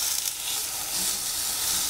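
Pork fillet searing in a Dutch oven gives off a steady, fairly loud sizzle and frying hiss that holds without a break for the whole stretch, with no voices over it.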